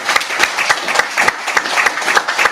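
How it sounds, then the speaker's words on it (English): Scattered applause from an audience at a mayoral forum, a loose patter of claps at moderate level with no voices over it. "Can we give them a round of applause?"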